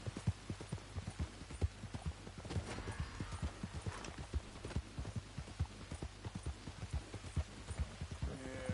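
Rapid, rhythmic hoofbeats of a galloping horse in a video game, steady and fairly close, with a brief snort partway through.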